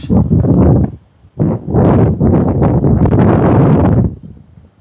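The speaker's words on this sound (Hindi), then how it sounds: "इतनी बढ़िया शानदार हवा चल रही है ना यहाँ पे." Strong wind roars in heavy gusts across a Himalayan mountain top at Mandala Top in Arunachal, buffeting the microphone loudly, with a brief lull between blasts.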